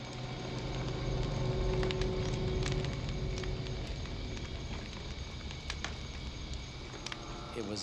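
A campfire burns in the jungle at night, giving a steady bed of crackle and hiss with scattered sharp pops throughout, fairly close, over a dense low rumble of surrounding night ambience.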